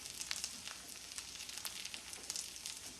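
A Cajun-seasoned ribeye steak searing in a pan gives a steady, fine hissing sizzle with faint crackles, quiet and close.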